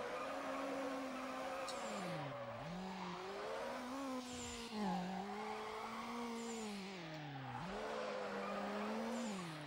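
A street car's engine drones and bends in pitch while its tires squeal through a long drift in Need for Speed Underground, a continuous close sound that swells and dips with each slide.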